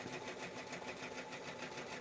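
A sewing machine threaded with black thread runs at a steady, fast stitching rhythm, a quiet continuous mechanical whir with regular clatter.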